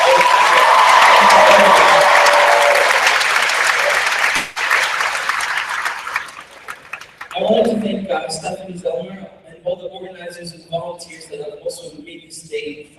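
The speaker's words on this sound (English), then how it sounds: "Please give them a huge round of applause." Loud, sustained audience applause fills a school gym at a conference's Monday morning kickoff and keynote, then fades out after about seven seconds as a voice begins speaking.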